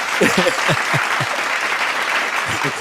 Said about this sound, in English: And it's long claps too.